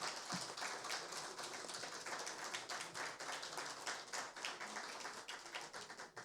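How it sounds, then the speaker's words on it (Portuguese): City councillors in a council chamber keep up faint, distant applause, a continuous patter of many hands with no speech over it. "sendo aplaudidos aqui pelos vereadores"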